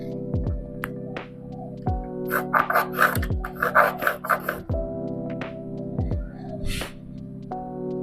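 Saw cutting wood for a homemade low floor study table for children, a burst of quick rasping back-and-forth strokes in the middle, with music and scattered knocks around it.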